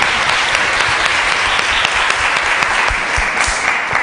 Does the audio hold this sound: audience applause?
yes